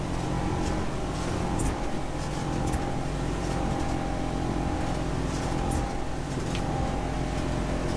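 A boat's engine is eased off while cruising toward bigger swells, a loud, steady engine roar mixed with rushing water and wind that stays constant and close throughout.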